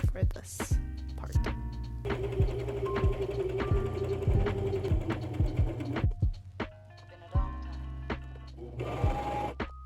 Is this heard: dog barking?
no